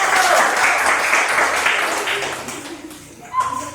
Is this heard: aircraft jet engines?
no